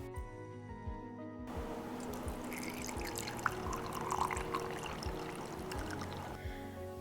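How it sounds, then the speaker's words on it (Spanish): Water is poured into a glass in a steady, continuous trickle with light splashing, lasting several seconds at a moderate, close level. "Y ya por último le agregas agua."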